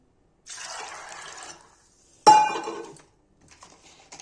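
Water splashes into a metal pressure cooker for about a second, followed by a sharp clank of metal and a few faint clinks.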